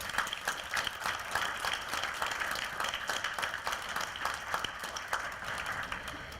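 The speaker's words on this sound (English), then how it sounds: "please give yourselves a huge round of applause for a terrific week" An audience at the closing session of a clean cooking conference applauds, dense steady clapping from many hands sustained throughout at moderate loudness, with no voices over it.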